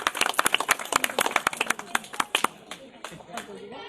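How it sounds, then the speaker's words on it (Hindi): Clapping hands ring out near and loud for a retired professor honored at an ashram inauguration in Hisar, sharp irregular claps that thin and fade toward the end, with voices murmuring under them. "जोरदार तालियां।"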